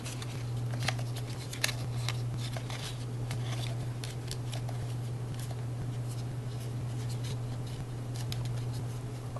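Scissors snip a plastic straw during Strawbots robot assembly. The cuts come as faint, scattered, crisp snips over a steady low hum in a quiet room.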